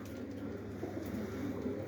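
Racing pigeons coo continuously in low, throaty murmurs, a dense soft chorus close at hand inside a new aviary.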